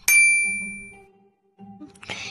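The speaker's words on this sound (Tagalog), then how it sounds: "Ring the bell." A bright bell ding rings out once and decays slowly, followed by a short clang-like tone and a burst of noise near the end.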